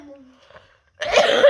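A child outdoors lets out one sudden, loud cough after a near-silent pause, a short harsh burst.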